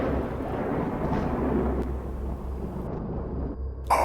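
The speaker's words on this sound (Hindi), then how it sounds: "अचानक जोर की बिजली कड़की" Thunder rumbles low and steady as a sound effect in a spoken Hindi horror story, with a faint crackle and a brief sharp burst at the very end. No voice is heard.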